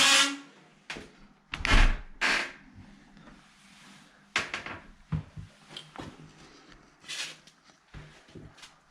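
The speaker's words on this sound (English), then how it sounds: "I'll show you with the door closed. It's pretty squeaky," A squeaky bifold shower door, 900 by 1850, being pushed closed, giving a series of scraping squeaks and knocks with a couple of sharper bangs, fairly close and alone.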